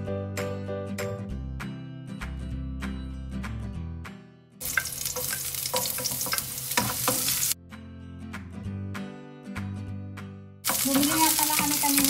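Onion sizzling and being stirred in hot oil in a pan, part of a home cook's Filipino adobo preparation: steady loud frying hiss in bursts, with music heard in the background throughout.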